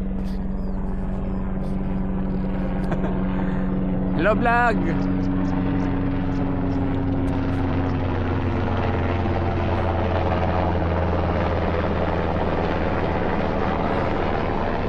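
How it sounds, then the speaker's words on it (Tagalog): A military helicopter flies overhead somewhere in Leones West, Agoo, a continuous low rotor drone and engine hum steady throughout, with a person talking over it. "Military helicopter yata yun."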